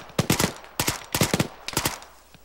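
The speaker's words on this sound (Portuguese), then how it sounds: "ele tá trocando tiro com os outros." Rapid bursts of automatic gunfire trade back and forth in an Arma 3 battle royale match, sharp close cracks in three or four short volleys with brief gaps, fading slightly toward the end.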